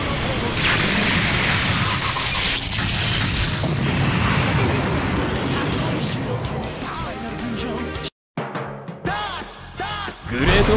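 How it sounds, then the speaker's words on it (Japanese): A mech unit blows up in Super Robot Wars 30, a loud, dense burst of crashing blasts that roars on for about eight seconds, cuts to a brief silence, then resumes with more clattering impacts and a rising whoosh. "機体が爆発する。"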